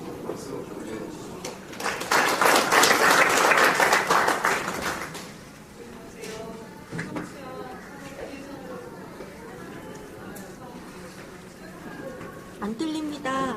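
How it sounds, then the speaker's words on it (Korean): Audience clapping in a Korean legal-reform discussion forum, a dense burst of applause swelling for a few seconds and then fading as people talk in the room over a quieter background. "박수 올려주시죠."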